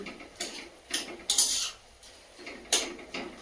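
Boiled vegetables for a Bengali chorchori, beans among them, are mashed down in a pot, giving irregular metallic scrapes and clinks of a utensil against the pot. The strokes come in short bursts about half a second apart, close by.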